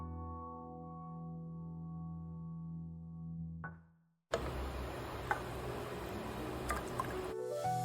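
Water poured into a pot of vegetable pulao on the stove: a steady sizzle first, then a loud rush of liquid splashing and bubbling in the pan, close and continuous.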